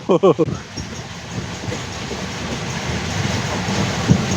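A passenger train rushes past a railway station at high speed, a steady rumbling roar with rail clatter running throughout, a few sharp bursts at the start and a brief click near the end.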